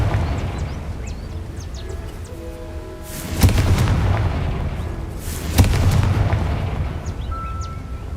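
Two booming fire-spell blasts from the Confringo charm in the video game Hogwarts Legacy, each a sudden loud burst, the first near the middle and the second a couple of seconds later, over a low rumbling ambient bed.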